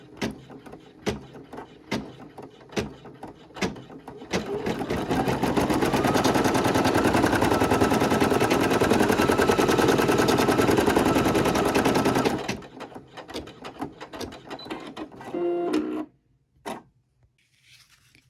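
A Brother PE800 embroidery machine stitches a fish applique, starting with scattered clicks and taps before settling into a loud, steady whirring hum for several seconds, then stopping into a few softer mechanical clicks and near silence.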